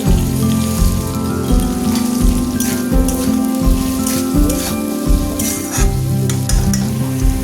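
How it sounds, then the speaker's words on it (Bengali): Potatoes and onions fry in a pan with a loud, steady sizzle, broken by regular scraping strokes of a spatula stirring through them, close up and without talk. "এখানে আলু পেঁয়াজ ভাজা হয়ে গেছে"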